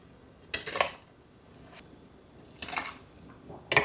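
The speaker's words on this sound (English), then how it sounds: "you just want to ladle the hot relish into your jars" Hot pepper relish is ladled through a funnel into glass jars, giving a few soft clinks and scrapes of a metal ladle against glass and pot, spaced out in short bursts with quiet pauses between.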